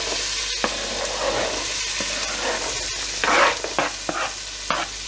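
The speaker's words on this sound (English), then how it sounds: "you're gonna actually, whoops, burn some butter. This is a salted butter" Salted butter sizzling loudly in a very hot pan, a steady crackling hiss with occasional spits and stirring scrapes.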